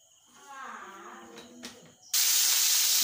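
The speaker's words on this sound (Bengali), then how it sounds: "কড়াতে তেলটা গরম হয়ে উঠেছে, এবার আমি সবজিগুলোকে ঢেলে দেব।" Vegetables hit hot oil in a kadai and set off a sudden loud, steady hiss of sizzling in the final second, after a quieter stretch of soft stirring and light sounds.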